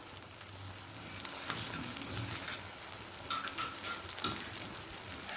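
Ginger garlic paste and spices fry and are stirred in a pan, a soft, steady sizzle with scraping and a few brighter crackles, close by and with no voices.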